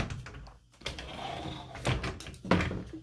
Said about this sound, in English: it just tucks super nicely in there when I shut the doors.